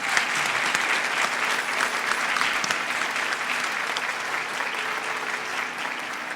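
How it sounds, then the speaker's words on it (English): Audience applause after a Bharatanatyam dance performance at an arangetram, a dense, steady clapping from a large crowd that continues throughout with no let-up. "I think one more round of applause"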